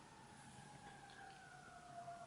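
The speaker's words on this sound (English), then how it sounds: "you guys can hear the sirens probably." A faint wailing siren drifts in from far away, its steady tone sliding slowly downward against low background rumble.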